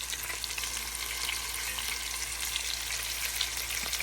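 About three pounds of meat frying in batches in a hot pan over medium heat, giving a steady, close, even sizzle that runs without pause and without any talking.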